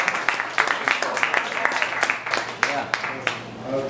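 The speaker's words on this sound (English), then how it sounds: "keep clapping until he gets up here." At an open mic night in New York, an audience claps for a poet, a steady patter of many hands with scattered louder claps, and someone talks over it.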